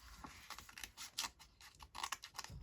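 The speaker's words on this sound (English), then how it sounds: "So I need to cut this out." Scissors snip paper for a junk journal cover, with a close, quiet series of irregular cuts and rustles.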